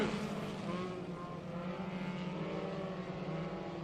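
Ministock race cars roar around a racetrack in a steady blended engine drone, the pack heard from a moderate distance as a continuous mechanical hum.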